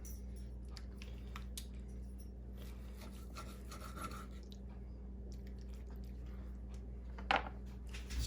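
A knife slicing into a steak grilled on a Blackstone griddle, soft faint rubbing and squishing strokes over a low steady hum, with a sharper scrape near the end.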